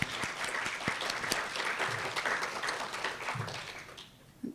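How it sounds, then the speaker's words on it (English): Loud, dense audience applause fills a research event for small cell lung cancer patients and caregivers, steady throughout and tapering slightly near the end. "Can we give them one more round of applause?"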